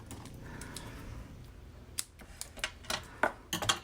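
A stapler punches staples through paper while a pop-up card is assembled, giving a few sharp, close clicks and snaps that grow louder toward the end over quiet rustling.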